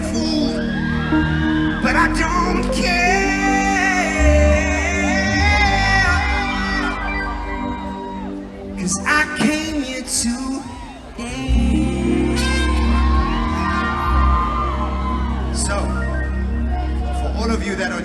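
Crowd at a street dance event on Florida Road, Durban, cheering, whooping and yelling over loud music with a heavy beat, voices rising and falling throughout.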